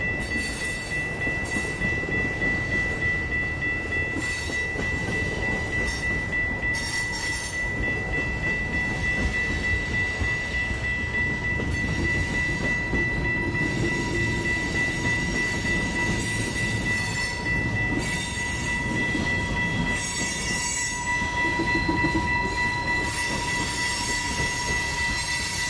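Freight train of gondolas and boxcars rolls past steadily, with continuous rumble, wheel clatter and faint squeal, plus a sustained horn tone throughout.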